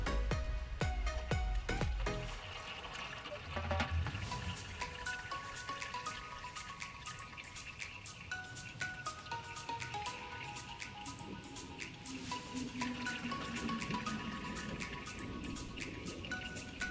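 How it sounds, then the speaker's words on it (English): Transfer case oil from a GMC Sierra 2500HD Duramax pours into a catch pan as a continuous liquid stream and patter that stays dense and steady throughout, with no one talking. "I have a catch pan ready to catch the oil, and I just let it all drain out."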